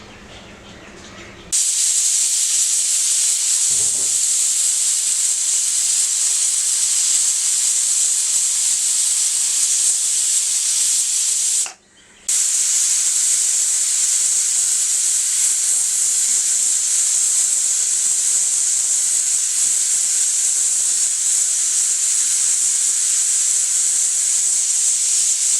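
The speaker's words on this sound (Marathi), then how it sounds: "दोन शिट्या झाल्या आहेत" A pressure cooker on full gas, cooking soya rice, lets out a loud, sustained high steam whistle that runs for long stretches, cut off once by a brief pause before resuming just as strong.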